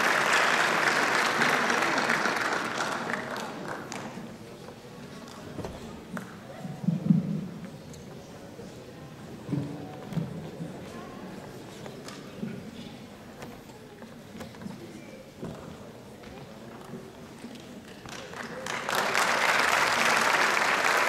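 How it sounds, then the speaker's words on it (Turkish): An audience applauds at a choir concert, with loud, sustained clapping at the start that fades to scattered claps and movement, then swells back into full applause at the end. "Alkışlarınızla."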